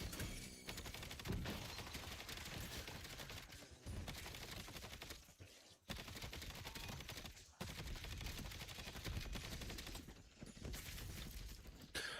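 Rapid gunfire in the video game Call of Duty, bullets aimed into the ground, rattling in dense continuous bursts with a few short pauses, heard faint and distant.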